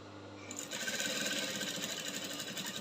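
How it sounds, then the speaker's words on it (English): A sewing machine back stitches the end of a seam on a drop-shoulder bustier with its lining. After a brief quiet start, a fast, steady mechanical whirring runs close and loud to the end. "And here I'll back stitch and I'm done."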